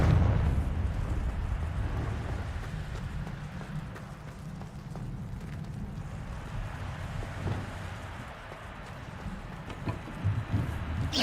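A Confringo fire spell blasting in Hogwarts Legacy: a deep, sustained explosive rumble, strongest at the start, then a steady low roar with scattered smaller bursts.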